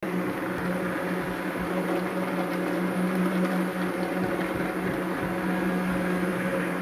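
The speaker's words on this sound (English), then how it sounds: "I really like this immersion blender." A steady motorized whir from a handheld immersion blender running at close range while blending egg whites for eggnog, a constant buzzing drone with slight fluctuations and no speech.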